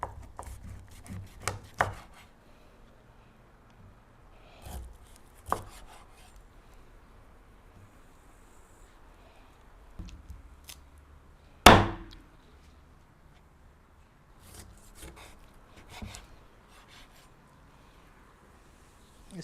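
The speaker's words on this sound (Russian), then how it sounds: "Будем нарезать по суставу." A knife chops through oxtails at the joint with sharp, irregular cuts and one loud crunch, close by, amid quiet kitchen handling sounds and no talk.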